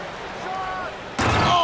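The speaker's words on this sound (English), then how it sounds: "Anthony Edwards throwing it down with force." Loud slam as Anthony Edwards throws down a forceful basketball dunk over LeBron in a Lakers versus Timberwolves game, a sharp broadband impact from the rim and backboard that swells into arena crowd roar with commentators talking underneath.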